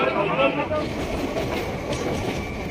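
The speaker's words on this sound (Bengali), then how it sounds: "আমাদের ট্রেন ছেড়ে দিয়েছে বনগা লোকাল" Bangaon local commuter train running, with a steady rumble and rattle of the carriages heard from onboard, and people talking faintly under the constant noise.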